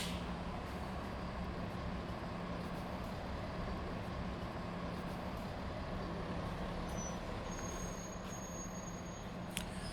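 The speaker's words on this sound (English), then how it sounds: "There'll be Mears taxis, other hotel shuttles and buses and things like that will also drop you off here and pick you up as well." Buses and shuttles idle and move around the Universal Studios drop-off, giving a constant low engine rumble with faint hiss and distant traffic, steady and moderately far.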